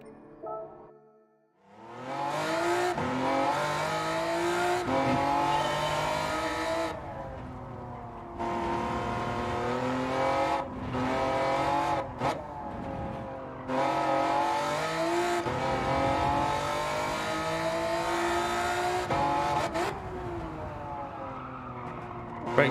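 A race car in Gran Turismo 7 roars through repeated high-revving acceleration runs with gear shifts, tire squeal and skidding under braking into corners, loud and close, with brief pauses between bursts.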